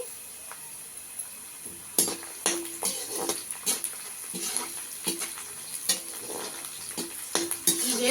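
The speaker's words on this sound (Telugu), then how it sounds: "ఆ తర్వాత టమోటా పుదీనా కొత్తిమల్లి ఇవన్నీ వేసుకొని వేయించుకుందామండి" Tomato, mint, coriander and fennel frying in a pan for mutton paya curry, with repeated scraping stir strokes over a soft background sizzle and no talking.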